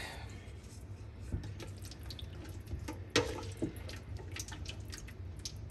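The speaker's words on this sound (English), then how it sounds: "I do need to add a fair amount of water" Tap water runs quietly into a pot of partly frozen chicken for soup, a faint trickle with a few sharp clinks and clunks from the pot.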